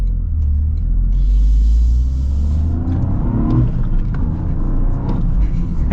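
2024 Toyota GR Corolla with a manual transmission, driven in its front-wheel-drive-biased setting, giving a loud, steady engine drone and road rumble from inside the cabin, with the revs rising then easing.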